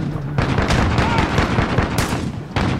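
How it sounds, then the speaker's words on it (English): A shotgun fired in a video game gives a few sharp, loud blasts spaced apart over a busy background, with some voices mixed in. "It's a shotgun."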